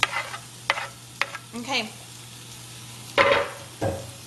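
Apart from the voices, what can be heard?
food sizzling in a pan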